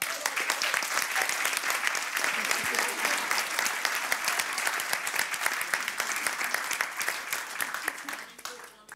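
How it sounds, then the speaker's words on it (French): A mediation symposium audience claps loudly and steadily for several seconds, a dense, continuous wash of applause that trails off abruptly at the end. "Vous pouvez l'applaudir."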